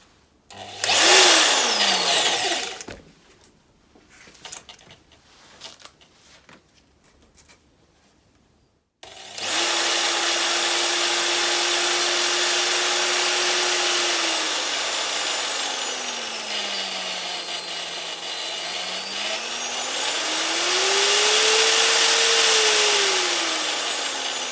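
A power drill spins a flexible drive shaft in a workshop, a steady whining hum that rises and falls in pitch as the speed changes, after some brief handling clatter.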